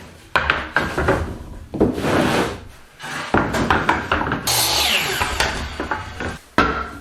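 Repeated scraping, rasping strokes on wood, loud and close, coming in bursts with short pauses between them, like a handsaw working through a board.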